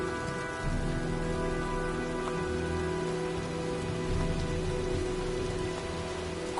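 Steady heavy rain from a storm in the video game Heavy Rain pours continuously on a surface, a dense even hiss with a low rumbling undertone and no voices.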